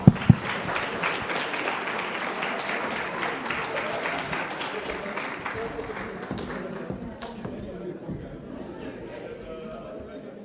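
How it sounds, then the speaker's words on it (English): Audience applause at a competition law, economics and policy conference, a broad steady patter of clapping that thins and fades toward the end, with scattered chatter mixed in. "Please, round of applause in welcoming Ms. Mondo Mazwai."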